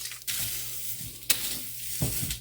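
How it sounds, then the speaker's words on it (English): Masala dry roasting in a hot pan on high heat without oil, with soft crackling sizzles and several scraping stirs of a spoon, faint and close. "Just dry roasting the masala"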